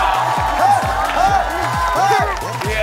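A Korean TV studio audience claps and cheers to welcome a child prodigy, dense applause mixed with loud talk from the hosts over the top.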